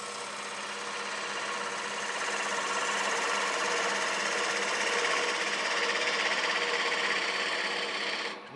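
A wood lathe spins a hollow form while a tool takes a cut off its bottom, making a continuous loud whirring hum with a steady scraping hiss, close and unbroken until it drops away at the very end.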